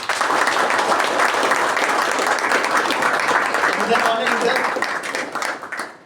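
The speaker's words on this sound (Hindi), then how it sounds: "तो एक बार दोबारा प्रतीक के लिए जोरदार तालियां" Loud, dense applause from a group at a Dehradun rehab gathering, honouring Prateek for his addiction recovery journey, sustained and steady before tapering off near the end as a voice speaks briefly.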